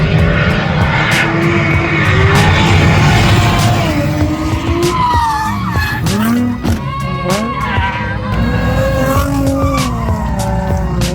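Drift cars slide through a corner at Castle Combe Circuit, tyres squealing in long wavering shrieks over roaring engines, loud and continuous with overlapping screeches from more than one car.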